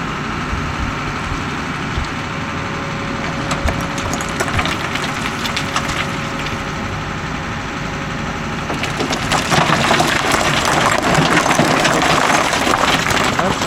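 A JCB 3DX backhoe engine drones steadily while loading and unloading stone gravel. A rough, busy rattle of stones grows louder and denser after about nine seconds.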